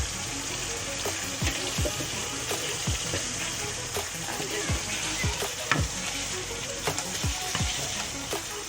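Chicken tikka karahi frying in a pan over the heat, giving a steady, loud sizzle with faint stirring scrapes and knocks repeating throughout.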